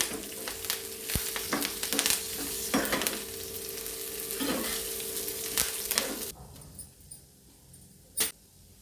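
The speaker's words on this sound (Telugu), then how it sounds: "కరివేపాకు కొంచెం ఎక్కువ వేసుకోవచ్చు బాగా వేగనివ్వాలి" Curry leaves fry in a hot pan with a dense, steady sizzle and crackle that lasts about six seconds, broken by occasional scraping stirs, then drop to a quiet hiss with one sharp clink.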